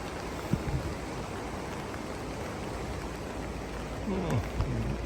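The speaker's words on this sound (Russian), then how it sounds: "Дождь идет и идет, не переставая." Steady rain falls on a January walk in Sochi's Rosa Khutor, a constant close hiss with occasional faint background sounds.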